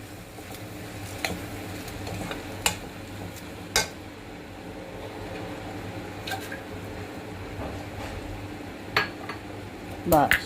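Bell pepper curry being stirred in a pan after flour is sprinkled over it, soft squishy stirring with occasional sharp clinks of a spoon against the pan, close but fairly quiet, with a brief spoken word.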